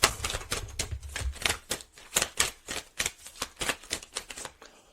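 A deck of tarot cards shuffled up close, a rapid series of crisp riffling flicks and taps in an uneven rhythm, fairly quiet, with no talking.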